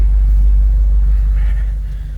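A BMW M8 Competition idles with a deep, steady low rumble close by. The rumble fades slightly toward the end, and nobody speaks.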